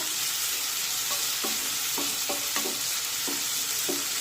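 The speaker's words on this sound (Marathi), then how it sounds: "आणि आता हा कांदा छान मऊ होईपर्यंत परतून घेऊया।" Finely chopped onions sauté in a pan with a steady background sizzle, broken by repeated short scrapes of a spoon stirring them at an irregular rhythm, close and fairly quiet, with no voices.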